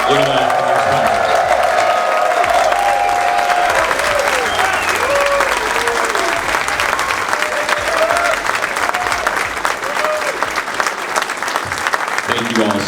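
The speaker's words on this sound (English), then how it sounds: "So I really need y'all to give your loudest cheer of the night for everybody standing up here." A large crowd at the Wookies in the Woods 2022 event applauds and cheers loudly for the sponsors. The clapping stays steady and dense for nearly thirteen seconds, with whoops rising over it.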